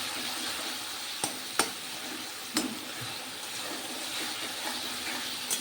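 Spice paste for Bengali doi rui fish curry being stir-fried in a pan: a soft, steady sizzle with a few sharp scrapes of a spatula, fairly quiet and with no talking.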